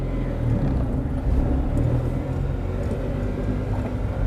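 A Tata Nano two-cylinder small car pulling away, with a steady low engine drone and road rumble close up, fairly even in level throughout.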